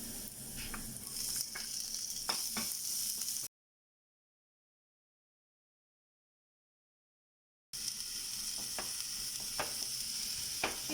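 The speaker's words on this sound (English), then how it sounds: "Till the onion are cooking," Chopped onion fries in a pan for black chana kababs, with a continuous close sizzle and a few sharp stirring taps. The sound drops to complete silence partway through, then the sizzling resumes.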